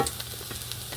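Sausage patties fry in a cast iron skillet, a soft continuous sizzle with faint scraping and light crackles, heard close and alone.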